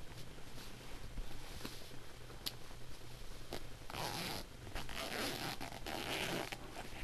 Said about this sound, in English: It unzips nice and easy.